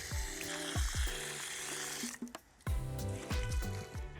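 Lemons are rinsed in water, with sloshing, splashing and squelching handling noises up close, interrupted by a brief lull before the wet knocks and swishes resume.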